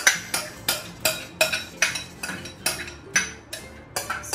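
Yogurt being mixed into mutton for biryani, a spoon or ladle knocking against a metal vessel in a steady rhythm of about a dozen clinking strokes, close and clear, without talking.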